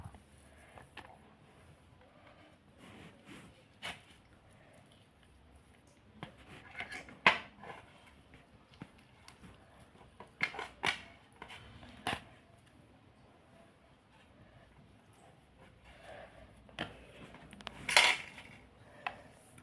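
Boiled potato is mashed together with onion and carrot in a bowl, heard as soft irregular squelches and scattered utensil clinks and scrapes against the bowl, fairly close and quiet.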